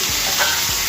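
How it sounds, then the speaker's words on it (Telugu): Spiny gourd fry being stirred with salt in a pan, a close, steady sizzle with a couple of soft scraping stirs, no voices. "ఉప్పు వేసి ఇదంతా కూడా మంచిగా కలిపేసుకోవాలి."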